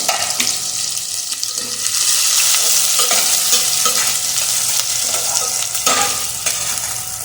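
Garlic, ginger, chilli and onion frying in a pan with oil, a steady broad sizzle throughout with occasional scrapes and stirring clinks, no voices.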